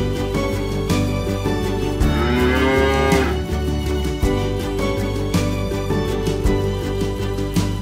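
A cow lets out a long, loud moo over a steady musical backing, standing out clearly near the middle.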